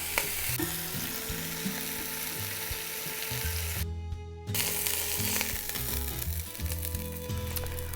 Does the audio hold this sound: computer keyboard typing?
no